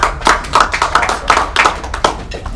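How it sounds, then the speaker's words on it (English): A drumming masterclass crowd applauds, a few close, sharp rhythmic hand claps in quick succession rather than a broad wash, loud and near. "give yourselves a round of applause"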